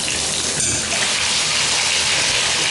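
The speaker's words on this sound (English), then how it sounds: "Shower is coming out. It's draining well." Water from a shower runs in a loud, steady hissing spray and drains away continuously, filling the room with a broad rushing noise and no talking.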